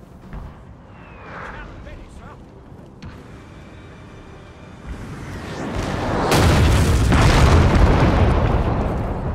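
Artillery cannon fire and explosions in Napoleon: Total War, a Napoleonic-era battle game, building from scattered booms into a loud, dense rumble of blasts in the last few seconds.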